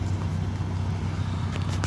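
A blower motor in a 2003 Chevy 2500 that stays on after the key is off gives a low, steady fan drone with a constant hum close by.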